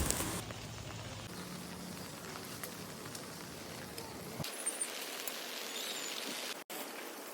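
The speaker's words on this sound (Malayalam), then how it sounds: "വല്ലാതെ മഴയൊന്നുമില്ല, ചെറുതായിട്ട്." Light rain falls steadily over a rural plot near Mannarkkad in Palakkad, Kerala, a soft continuous hiss that stays even throughout, with a few faint taps.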